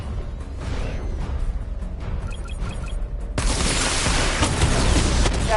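Missile barrage from Batman Arkham Knight, fired by the Batmobile during a weapon diagnostic test: quieter rumbling and whooshes with a few electronic beeps give way to a loud, sustained salvo of blasts and explosions.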